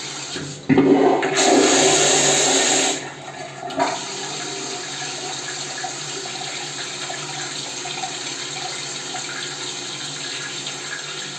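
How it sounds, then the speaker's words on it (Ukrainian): A hotel toilet in Harbin, China flushes with a loud, rushing burst of water for a few seconds, then settles into a steady hiss of refilling. "злив води, як в Америці"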